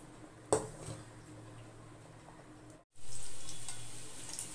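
Potatoes frying in hot oil for chicken biryani, a steady close sizzle broken by a sharp clatter near the start and a brief dropout, then a louder, fuller sizzle that fades slowly.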